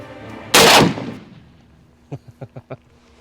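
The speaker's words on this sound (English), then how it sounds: "AK-50 V3 completed, assembled, test fire" A single loud, close gunshot from an AK-50 rifle (V3 build) on a test fire, followed a moment later by five quicker, fainter sharp reports in a short rhythmic burst, with no talk.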